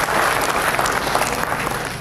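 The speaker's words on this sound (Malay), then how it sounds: "So, tepukan untuk Jabatan Lanskap" Steady applause from an audience at a monthly city council staff assembly, dense and even clapping filling the whole stretch with no talk over it.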